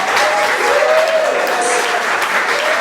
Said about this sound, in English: The big round of applause.